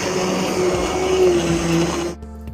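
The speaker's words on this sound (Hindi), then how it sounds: "मैं इस वक्त हैंड ब्लेंडर से ये सब्जियों को जो है ये मैश" A hand blender mashes vegetables for mushroom soup, whirring steadily and loudly for about two seconds, then cuts off abruptly.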